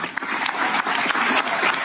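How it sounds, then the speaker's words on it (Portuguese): Applause from the audience at a Brazilian Supreme Federal Court ceremony, a dense, sustained clapping from a large crowd in a hall. "Tendo agora aplaudido Alexandre de Moraes e o presidente e o vice se abraçando"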